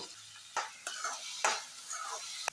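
Onions, cumin, green chilies and curry leaves frying in coconut oil, a soft sizzle broken by a few sharp spatula scrapes and clinks against the pan; no one speaks.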